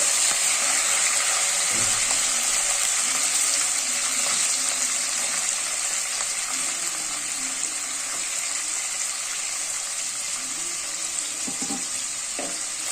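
Onions, green chillies and curry leaves fry in a pan, giving a loud, steady sizzle and hiss throughout with faint clinks now and then.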